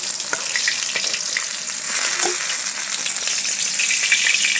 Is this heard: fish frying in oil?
yes